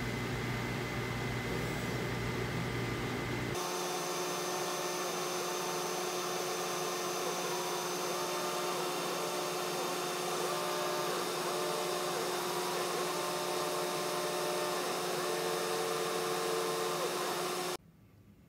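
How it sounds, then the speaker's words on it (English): An exhaust vent and pump run steadily while acrylic sheet is cut, a loud continuous mechanical whir and hum with tonal whine that starts abruptly after a few seconds and stops near the end. "We've got the vent going and the pump."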